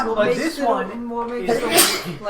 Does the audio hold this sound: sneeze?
yes